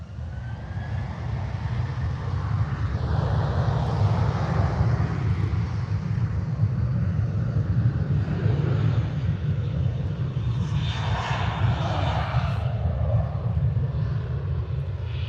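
Ryanair airliner departing Liverpool Airport, its jet engines a steady, continuous low roar that holds loud and even throughout, with no voices.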